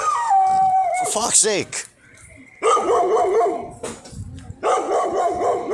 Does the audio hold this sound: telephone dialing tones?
no